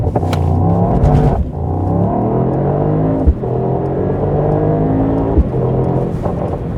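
A Mercedes-AMG GT 63 accelerates hard during a timed acceleration test, its loud engine note climbing steadily through the gears, with brief drops at two gear shifts before it rises again.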